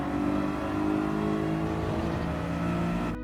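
A race car in Gran Turismo 7 accelerates steadily with a loud, continuous engine note as the throttle is gradually fed back in, then cuts off abruptly at the end.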